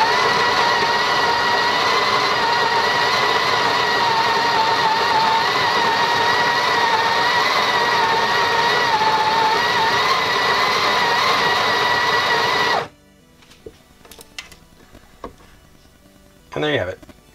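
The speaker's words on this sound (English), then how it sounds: "And there you have it. You got your espresso all ground up." A Breville 870XL Barista Express grinds espresso beans into the portafilter with a loud, steady, close-up whirring drone lasting about thirteen seconds, then stops abruptly, leaving a few light clicks and handling knocks.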